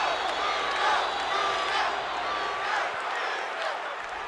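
Crowd of about 21,000 at Madison Square Garden chanting for wrestler Bruno Sammartino, a moderately loud, rolling roar of voices with rhythmic swells and scattered clapping.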